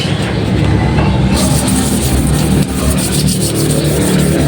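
A rusty motorcycle muffler from a Euro Griffin 180i is sanded by hand before repainting, giving a loud, steady, gritty rubbing scrape that grows harsher partway through, close up with no talking.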